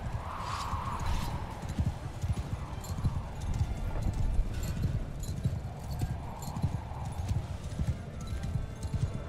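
Horses gallop in a medieval battle in Bannerlord with a Game of Thrones mod: a dense, steady clatter of hooves runs throughout, loud and close, with battle noise around it and occasional faint voices.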